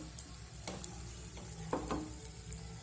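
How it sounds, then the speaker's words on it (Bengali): Batter sizzling in an oiled frying pan as a ladle spreads it round, a steady soft frying hiss with light scraping touches, close and fairly quiet, no voices. "এবার আমি ফ্রাই প্যানের মধ্যে এক হাতটা ব্যাটার দিয়ে দিলাম"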